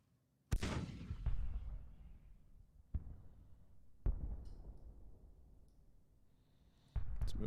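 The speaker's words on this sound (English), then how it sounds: "some enemy artillery is firing on us" Enemy artillery fire in the Civil War strategy game Grand Tactician: The Civil War: a loud cannon boom opens the scene and rolls away, followed by further distant shots and rumbling reports at irregular intervals, with no voices.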